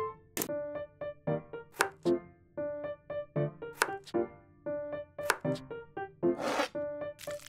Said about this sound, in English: Chili. Cut into several slices.